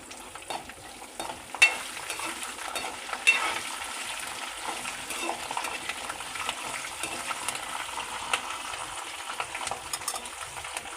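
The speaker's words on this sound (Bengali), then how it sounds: "এইবারে আমি কিছুটা কাজু বাদাম দিয়ে দিলাম। এরপরে দিয়ে দেবো কিছুটা কারি পাতা।" Cashew nuts and curry leaves fry in hot oil in a pan, a bright crackling sizzle with sharp pops near the start, then a steady hiss under occasional spoon stirring.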